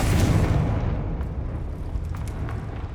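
A Confringo fire spell bursts in Hogwarts Legacy, opening with a loud, close blast that decays into a long rumbling roar and crackle, with a few faint sharp pops near the end.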